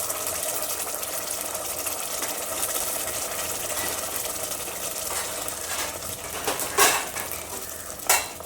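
Onion and tomato puree hitting hot oil for a chicken gravy, giving a loud, continuous sizzle and crackle with a couple of sharp spatters near the end.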